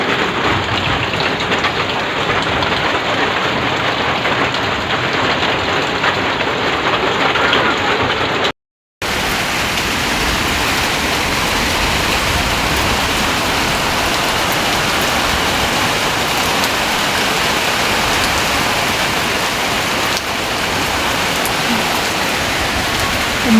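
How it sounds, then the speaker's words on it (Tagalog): Heavy rain falls steadily during Typhoon Basyang, a dense continuous hiss with a brief cut partway through, loud and unbroken for the whole stretch. "Umuulan na naman po guys dito sa amin."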